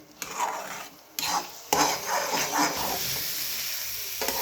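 Red poha kesari being stirred in a pan on the stove, a spoon scraping and knocking against the metal in repeated close strokes with brief pauses and a faint sizzle beneath.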